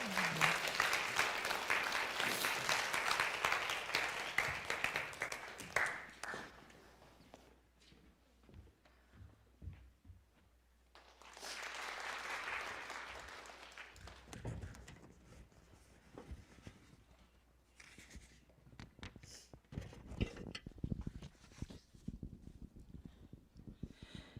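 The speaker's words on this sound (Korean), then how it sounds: "우리 박수로 권사님 한번 축복할까요?" A church congregation applauds to bless a deaconess during a Christmas Eve sermon, a warm burst of clapping that fades, returns in a second wave, then trails off into scattered sounds and quiet voices.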